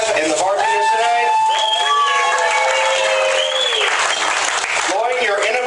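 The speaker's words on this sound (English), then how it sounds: "give a round of applause for the wait staff and the bartenders tonight" Audience applause with cheering from a crowd at an evening comedy show, given for the wait staff and bartenders. It fills the room steadily from start to finish, with voices calling out over the dense clapping.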